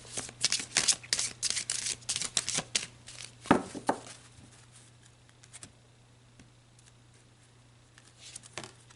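Tarot cards being shuffled: quick papery riffles and flutters come in close bursts for about four seconds, then stop, with a few soft card taps near the end.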